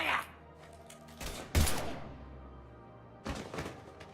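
Gunfire in Mass Effect 3, with a few heavy, booming shots spaced apart, each ringing out and decaying, the loudest in the middle, with quieter gaps between.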